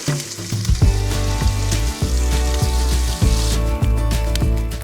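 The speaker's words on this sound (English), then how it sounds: "A grease fire." A grease fire in a pan at a camp stove gives a loud, close, roaring sizzle that is continuous and spattering, with a few sharp pops and no voices.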